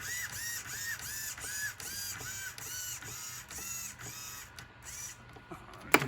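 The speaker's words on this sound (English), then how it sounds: "You can hear the fan going still" A small cooling fan keeps whirring in an RC car after its battery is unplugged, a faint steady hum with a repeating rhythmic pulse and a sharp click near the end.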